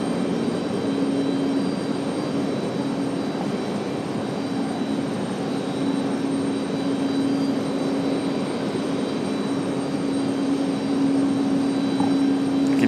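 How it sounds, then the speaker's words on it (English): An Airbus A350 jet airliner passes at the airport, a steady, broad roar with a sustained engine hum that holds moderately loud and constant throughout, no voices over it. "I can hear the A350."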